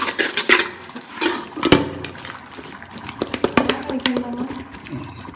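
Mashed tapioca being stirred in a metal pot, with a spoon scraping and clanking against the sides in irregular bursts, close and fairly loud, with occasional liquid sounds.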